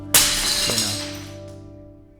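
A sharp crack as a brittle shellac 78 rpm record shatters, with fragments clinking and a ringing tone that slowly fades over a couple of seconds.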